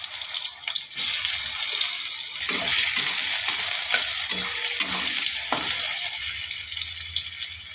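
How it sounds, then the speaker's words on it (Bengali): Chopped onions and whole cumin frying in hot oil for aloo dum, a loud, dense crackling sizzle that starts abruptly after a quiet second and continues steadily with a few sharper pops. "আমি একটু গোটা জিরে দিয়ে দিলাম, কুচানো পেঁয়াজগুলো ছেড়ে দিলাম,"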